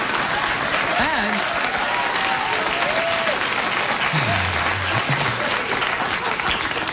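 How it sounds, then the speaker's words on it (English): Sustained clapping from a late-night talk show studio audience fills the room at a constant level, thick and continuous, with a brief vocal sound rising out of the crowd now and then. "Thanks for clapping."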